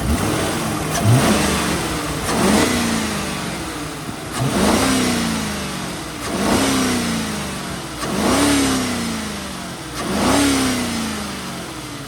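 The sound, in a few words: 2005 Lincoln Town Car engine revving at higher RPM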